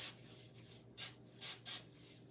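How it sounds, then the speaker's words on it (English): Cooking spray from a can misted onto a nitrile-gloved hand over a kitchen sink, heard as three short hissing bursts close by against quiet room noise. "giving this a quick spray over the sink"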